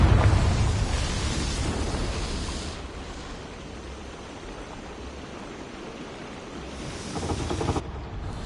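A Confringo blasting spell explodes in Hogwarts Legacy, a loud broadband burst at the start that decays into a long rumbling roar, swelling again briefly near the end before cutting off.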